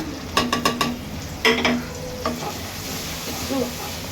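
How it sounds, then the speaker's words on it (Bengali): Ground spices including turmeric, chili, coriander and cumin sizzle in hot oil as a spoon scrapes and clinks against the pan in quick bursts, a steady soft frying hiss underneath, close and without talk. "এই মশলাটা একটু কষায় নিব"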